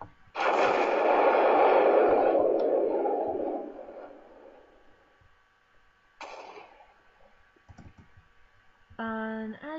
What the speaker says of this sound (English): that was like a really baby creeper explosion